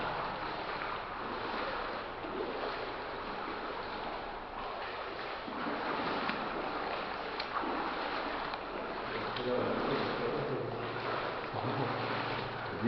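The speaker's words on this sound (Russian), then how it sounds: "Идем по воде." Footsteps wade through clear, flooded water in an abandoned Omsk metro tunnel, a steady sloshing and splashing that echoes in the enclosed space, with no voices.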